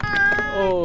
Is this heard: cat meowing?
yes